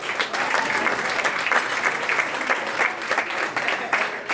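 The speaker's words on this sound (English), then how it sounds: "please give them a round of applause" Audience applause at a high school award ceremony honouring the conference champion girls' tennis team, a full, loud and even burst of many people clapping, sustained from start to finish.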